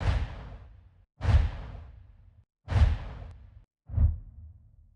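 Four separate whooshing swooshes, each a rushing burst that trails off, spaced about a second apart with brief silences between.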